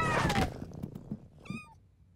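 A cartoon kitten lets out a loud, bright meow, followed by a few softer thumps and a short high squeaky cry, close and clear with no talking.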